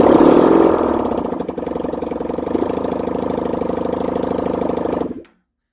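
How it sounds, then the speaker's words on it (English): A Honda VFR400 NC30 motorcycle engine with the choke on fires up and settles into a steady, fast mid-pitched idle, running alone for several seconds before cutting off abruptly. "I'm actually going to try and start it up and see if it still starts quite easily"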